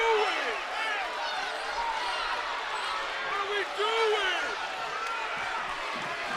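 A high school boys basketball crowd at a Class 5A regional semifinal between Leon and Fleming Island roars steadily after a foul and a made bucket, a loud sustained cheer under a commentator's voice, with squeaking sneakers.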